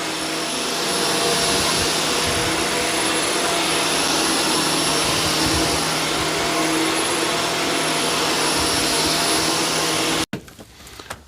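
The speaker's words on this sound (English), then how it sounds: "And you gotta have a strong vacuum." A strong carpet-cleaning vacuum runs loud and steady on carpet soiled with dog urine and feces in a garage setting, a dense continuous roar for about ten seconds that cuts off abruptly, leaving faint handling noises.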